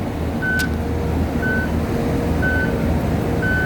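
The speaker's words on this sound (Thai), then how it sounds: "ก็เป็นรถบดสั่นสะเทือนที่ค่อนข้างจะแรงกดเยอะนะครับ" An XCMG XS263S vibratory road roller, a heavy double-drum machine, works beside a road milling machine, its steady engine drone punctuated by evenly spaced reversing beeps repeating about once a second.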